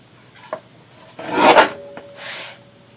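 Paper for a card project is trimmed at the end, giving a close, dry rasping swipe that swells and fades, with a few light ticks before it and a softer scrape after.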